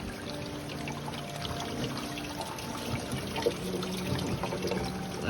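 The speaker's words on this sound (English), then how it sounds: "Water going in to the rain eater." Rainwater trickles and pours steadily into a rain harvesting system during a long, moderate rain, a continuous close liquid flow with small splashy fluctuations and no speech.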